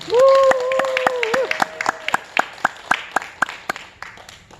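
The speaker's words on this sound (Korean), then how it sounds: "우리 박수로 모시겠습니다" Audience at a lecture on water therapy welcoming the lecturer, opening with a voice over scattered claps, then settling into a slow, evenly spaced rhythmic clapping that continues at a moderate level.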